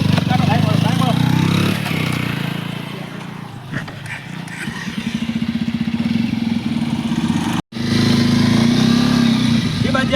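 A motorcycle engine runs close by with a steady putter that rises into a rapid throbbing idle, loud throughout and cut by a brief silence near the end, while people talk over it on the street.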